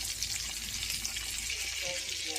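Food sizzles in a pan right after being flipped over, a steady, close, bright frying hiss with small crackles running throughout.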